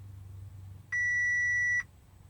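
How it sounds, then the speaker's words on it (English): A single steady electronic beep, lasting just under a second, sounds from an Audi RS5 rear spoiler control module during coding on a B8/B8.5 retrofit, clear and alone over low background hum. "You'll get some beeps."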